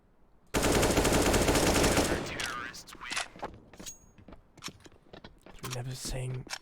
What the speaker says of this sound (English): Hertz finds himself a frag with the Deagle